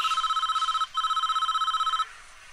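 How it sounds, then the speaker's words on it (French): A telephone rings in the video game Prison Architect, a fast, loud electronic trill in two bursts with a short gap between them, then it cuts off, with no talking. "le bruit du téléphone est insupportable"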